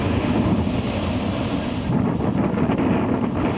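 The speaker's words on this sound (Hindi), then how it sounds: "यहां तूफान के कारण समंदर में ऊंची ऊंची लहरें उठी।" Rough high sea waves whipped by Cyclone Remal on the West Bengal coast, a loud continuous roar of surf and gusting wind buffeting the microphone.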